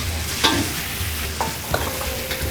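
Prawns and chopped garlic sizzle and get stirred in a hot wok for Penang char koay teow, a loud continuous frying hiss with a few sharp scrapes of the spatula, close up and without speech.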